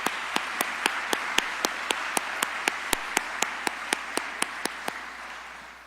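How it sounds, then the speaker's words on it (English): Applause for sponsors at the 2023 State of DeKalb County address: a steady wash of crowd clapping punctuated by sharp, evenly spaced loud claps, slowly fading toward the end. "please help me in giving all of these sponsors a proud applause for their support."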